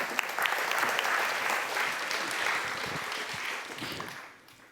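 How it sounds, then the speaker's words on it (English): An audience at an award event for impact and development gives a round of applause, a dense steady wash of many hands clapping that fades out near the end. "Can I have a round of applause?"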